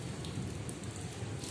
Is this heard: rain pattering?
yes